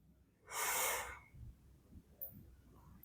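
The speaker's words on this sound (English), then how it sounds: "Take a deep breath." A single deep inhalation drawn in for about a second, a breathy rush close to the microphone, then quiet room sound with small rustles.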